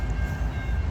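A CSX M457 freight train led by locomotives including a rare EMD SD40-2 rolls by in Auburndale, with a loud, steady rumble of engines and wheels close at hand and no talking.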